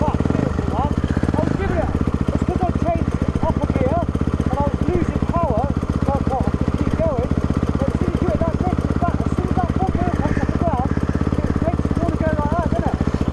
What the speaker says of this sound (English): That's a two-stroke for you there. So temperamental.